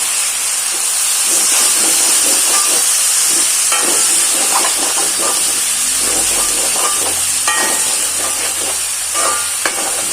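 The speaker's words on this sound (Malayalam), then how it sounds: "നമുക്ക് അതിലേക്ക് തക്കാളി ഇട്ട് കൊടുക്കാം" Tomatoes tipped into a hot pan while making fried-fish curry, giving a loud, steady hiss and steam with stirring and clatter on top, heard up close with no one talking.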